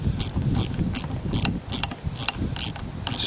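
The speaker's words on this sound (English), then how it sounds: "Hold one side and just ratchet it down." A socket ratchet with a 7/16 socket tightens the blade bolts on a Thermodyne wind turbine, giving a regular series of close, sharp ratcheting clicks over a low handling rumble.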